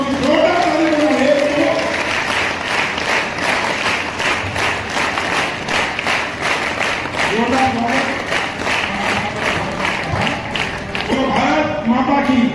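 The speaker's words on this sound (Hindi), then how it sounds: "आपको निवेदन करता हूँ कि जोरदार ताली बजाइए" A large crowd at a public event in Harda, India, greeting a Union Minister of State with loud, sustained applause, dense clapping that continues for over twelve seconds under a voice speaking through a public address system.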